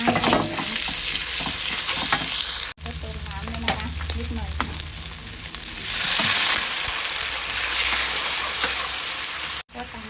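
Chili paste stir-fried with fried garlic in a hot pan for a Thai cashew chicken dish, a steady loud sizzle with scraping stirs, briefly cutting out twice, then swelling into a brighter, hissier fry.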